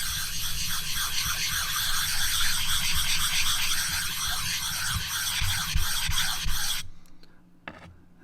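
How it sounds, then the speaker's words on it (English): A knife is drawn across a whetstone in continuous raspy grinding strokes for about seven seconds, close and fairly loud, then stops, leaving a few faint scrapes. "Go ahead and hit the stone with the nanowall."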